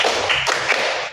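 A classroom group claps together in a counted rhythm, producing a continuous blur of overlapping handclaps with a few stronger accents, loud and close, without speech.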